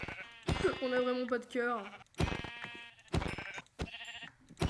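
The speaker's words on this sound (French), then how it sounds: "il y a un maximum de moutons" Sheep in a video game bleat in a long, wavering call with a few shorter bleats, mixed with a voice talking in French.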